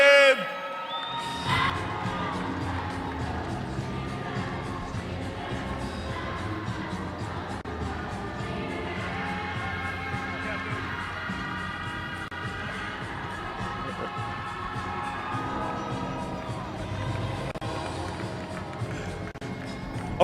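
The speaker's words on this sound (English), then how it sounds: "Ladies and gentlemen, big round of applause from Mayflower, Arkansas." Cheering and whooping from a big weigh-in crowd at the 2016 Bassmaster Classic rise for an angler from Mayflower, Arkansas, a steady loud roar with shouts running throughout.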